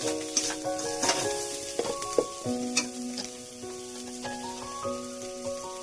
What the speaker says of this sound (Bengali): পেঁয়াজ আদা রসুন বাটা লাল লাল হয়ে গেছে ভাজাটা